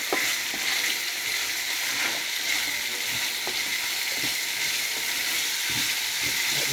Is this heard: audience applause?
no